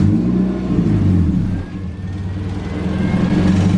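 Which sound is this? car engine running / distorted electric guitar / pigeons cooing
car engine running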